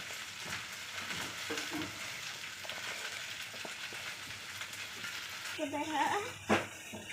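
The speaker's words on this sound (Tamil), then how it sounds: "நல்லா எண்ணெய் நல்லா சூடு ஏறட்டும், பொரிச்சிடலாம்." Jackfruit chips deep-fry in hot oil, sizzling and crackling steadily in a pan, a dense frying hiss with stirring clatter, and a voice speaks briefly near the end.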